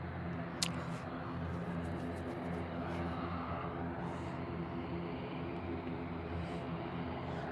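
An Airbus A320 departing Birmingham airport produces a faint, distant, steady jet rumble and hiss that persists throughout without strong peaks.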